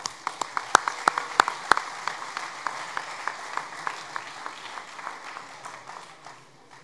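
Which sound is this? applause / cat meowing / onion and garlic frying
applause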